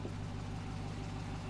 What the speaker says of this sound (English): This is what a TRX sounds like just idling though